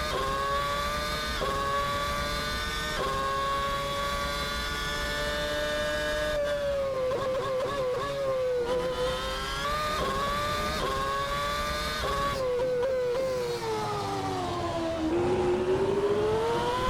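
A McLaren MP4/22 Formula 1 car in the Assetto Corsa racing game drops through its gears, the shrill engine tone stepping down and swooping between shifts in a continuous, loud whine with no voices over it.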